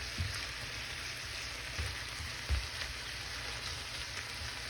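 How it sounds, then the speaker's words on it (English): Ground beef browning in a pan while tomato sauce is prepared for a Guatemalan dish, giving a steady, low sizzle and frying hiss with a few soft stirring bumps and no talk. "So I'm going to brown this ground beef."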